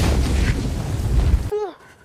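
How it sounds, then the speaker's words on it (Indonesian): Land mine explosion from the war film Land of Mine, a loud, sustained broadband blast with heavy low rumble lasting about a second and a half, then cutting abruptly to near silence with a faint voice-like tone. "Werner pun meledak tak tersisa."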